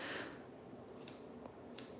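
Scissors snip through paper and card while a Stampin' Up! Christmas tree card is being made, giving a few small, crisp clicks over a faint background hiss.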